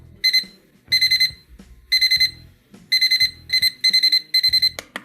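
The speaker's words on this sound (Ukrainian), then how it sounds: "Ось так звучить сигнал будильника." An Excelvan TS-77 weather station's alarm clock beeps in repeated bursts of rapid high-pitched pulses, loud and close, with short pauses between each group.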